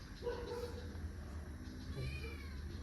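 A pet cat meows a couple of times at close range over a steady low background hum, with no talking.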